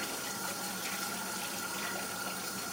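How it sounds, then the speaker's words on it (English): Water poured into a pot to rinse food, a loud steady rushing pour that runs unbroken throughout with no speech. "all you gotta do is just pour a little water in there, rinse it out a couple times"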